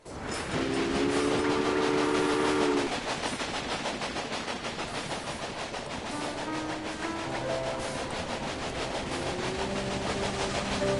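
A video game steam train rumbles steadily with tonal whistle-like hoots and a continuous mechanical clatter, fairly loud and close, no voices.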